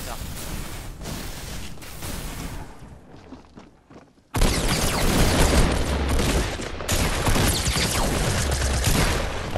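MP5 submachine gun fire in Fortnite, rapid dense bursts of loud shots, a brief drop-off midway and then a sustained, even louder barrage that continues to the end.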